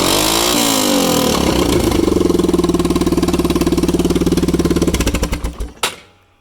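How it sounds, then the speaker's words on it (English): A 1998 Yamaha Kodiak ATV with an exhaust that ends mid-frame runs very loud. It gives a fast, steady engine thump that holds for several seconds, then slows into spaced pulses and cuts off, close-miked and without talk. "starts up very easy, catastrophically loud because the exhaust terminates right in the middle there"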